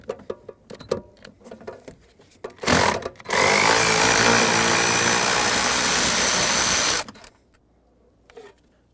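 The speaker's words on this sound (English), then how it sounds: "using a 13mm socket, I'm going to remove the three mounting nuts holding this pedal on" A power tool with a 13mm socket spins off pedal mounting nuts under the dash of a Ford Excursion, a loud continuous ratcheting whir lasting about four seconds after a short burst, surrounded by faint clicks and handling noises.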